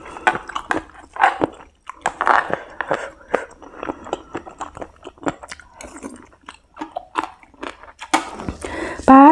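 Crunchy spicy Thai cuttlefish salad being chewed close up, with many sharp, irregular crunching bites that come fast and loud throughout, and no talking.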